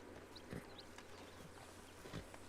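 Faint, slow clip-clop of a horse's hooves as it is led on foot in the Red Dead video game, a few soft paired steps under a steady low background hum.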